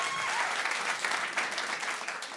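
An audience at a comedy show in Berlin claps steadily and fairly close, a dense burst of applause that tapers slightly toward the end.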